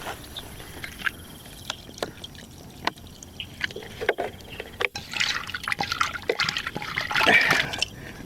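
Raw chicken pieces being washed in water at a mountain tent campsite: close splashing, dripping and trickling, with light knocks and handling sounds, growing busier and louder toward the end.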